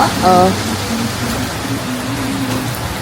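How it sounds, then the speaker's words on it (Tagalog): Light rain patters steadily in Ubud, Bali, a dense close hiss that stays even throughout, with a brief voice heard at the start. "umuulan na ngayon, no, maambon na"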